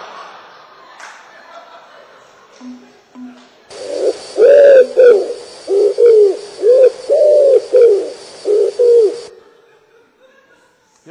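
Several pigeons coo in a rounded, pulsing series of about eight calls, fairly close and loud, following a quieter stretch with a few faint earlier sounds.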